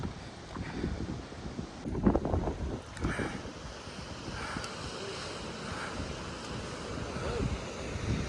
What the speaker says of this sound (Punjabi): ਹਵਾ ਦਾ ਫੋਰਸ ਬਹੁਤ ਜ਼ਿਆਦਾ ਹੈ